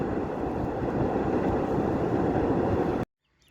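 A train crossing the New Pamban Bridge, India's vertical lift sea bridge at Rameswaram, gives a steady, loud broadband rumble that holds for about three seconds, then cuts off abruptly into near silence.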